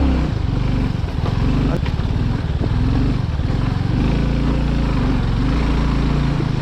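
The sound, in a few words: motorcycle riding on rough off-road track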